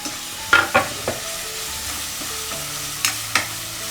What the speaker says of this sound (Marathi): कांदा नरम झाला आहे फोडणीत टॉमॅटो ऍड करू